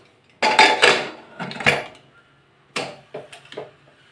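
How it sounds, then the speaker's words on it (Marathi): A metal lid set onto a cooking pot of boiling lemon rice with coriander in a home kitchen, a few close clanks and rattles in two quick bursts with a pause between. "आपण आता हे झाकण लावत आहोत।"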